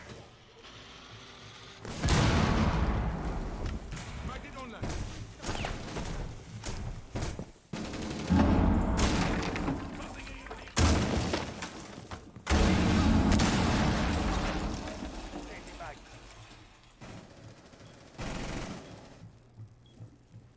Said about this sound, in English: the Hibana pellets are now being activated once more, and he is out of impact nades. The hatch will be opened up.